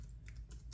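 Quick keystrokes on a wireless Bluetooth keyboard paired with an iPad, a short burst of close, crisp taps with no voices.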